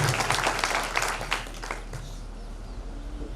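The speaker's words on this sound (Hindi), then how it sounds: "जोरदार तालियां उनकी पूरी टीम के लिए।" Theatre audience claps for a drama team at a Hindu New Year play performance, a short burst of applause that fades out quickly into low room hum.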